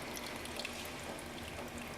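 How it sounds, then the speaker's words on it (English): Water pours and trickles down through the stacked trays of a barley fodder system. It makes a steady, soft, close splashing, dribbling from level to level, with no voices. "So we see the water is moving from each level onto the next level"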